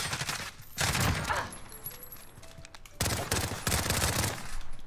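Video game gunfire, dense rapid bursts of automatic shots that come in several loud waves over a steady background, with no talking.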